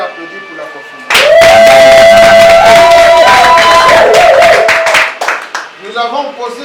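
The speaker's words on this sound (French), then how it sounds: "on peut applaudir pour la confirmation" Loud applause and cheering from guests at a civil wedding ceremony, erupting suddenly after speech with shrill ululation over dense clapping, then fading as talking resumes.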